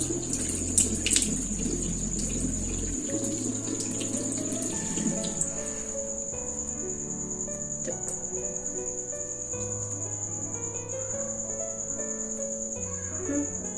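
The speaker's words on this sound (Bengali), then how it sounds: "মুখটা প্রথমে জল দিয়ে ধুয়ে নিতে হবে" Water runs from a tap for about three seconds, then comes intermittent soft splashing as a face is washed, all over a steady high chirr of crickets.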